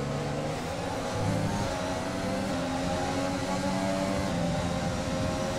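F1 cars in the F1 2020 racing game scream past in a steady, close engine roar with shifting harmonic whine as revs rise and fall, played on a motion race simulator with no voices.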